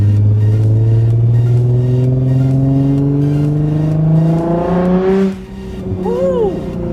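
A Nissan 350Z convertible accelerates hard with the roof down, its engine note climbing steadily in pitch through the gear, then dropping sharply at a shift before pulling again, loud and close.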